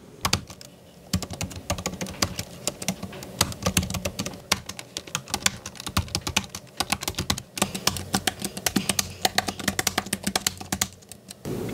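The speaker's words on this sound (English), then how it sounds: "So let's do a quick comparison typing test." Rapid typing on a reMarkable Type Folio keyboard, a steady stream of close, crisp key clicks with occasional louder taps, alone without talk.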